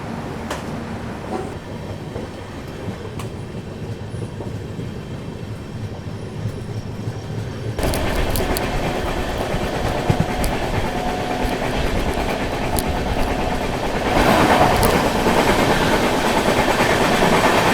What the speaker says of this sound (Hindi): मात्र 2 मिनट रुकने के बाद ट्रेन अपनी निकल रही है विंध्याचल से